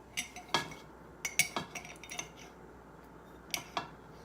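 Shea butter scooped with a teaspoon and dropped into a container, giving a few sharp metallic clinks and taps, close and fairly quiet, scattered over several seconds with no talking.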